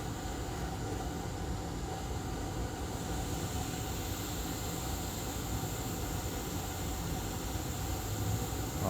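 A hot air rework station blows onto a chip on an Asus Q325U laptop board, with the airspeed turned down to about 90 and the temperature raised to 490. It gives a steady, even hiss of moving air for the whole stretch, with no talking.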